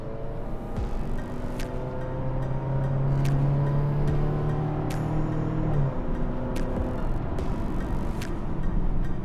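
A Mazda CX-60 SUV driving in off-road mode, a steady engine drone from inside the cabin that builds and holds, with occasional clicks and knocks over a continuous road rumble.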